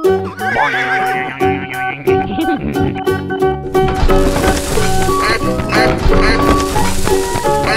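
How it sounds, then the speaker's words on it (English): A cartoon horse neighs amid busy animated sound effects and background music, with a bright whinny over clattering, hoof-like knocks. "Horse."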